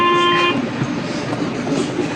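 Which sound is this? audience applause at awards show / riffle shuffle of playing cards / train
train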